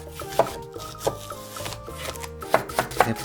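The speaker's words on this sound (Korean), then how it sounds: "양파 반 개를 잘라줍니다." Half an onion being chopped with a kitchen knife on a cutting board, several crisp, separate knocks at an uneven pace over light background music, with no voices.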